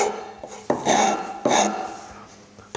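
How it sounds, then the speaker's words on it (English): Rough scraping of a French cabinet maker's rasp filing a wooden edge, a few broad rasping strokes in quick succession, close and fairly loud with no talk. "I can also go to this French rasp."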